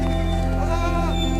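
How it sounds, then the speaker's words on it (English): Goats bleating in a greenhouse on a snowy Alaskan winter day, one drawn-out, wavering bleat filling the moment, loud and near. "Come here, goats."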